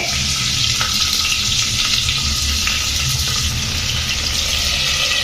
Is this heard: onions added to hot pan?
yes